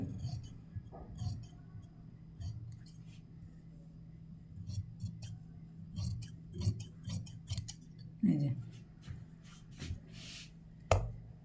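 Scissors snip through fabric for a baby dress in a series of faint, scattered crisp cuts and clicks over a quiet room hum, with soft speech now and then.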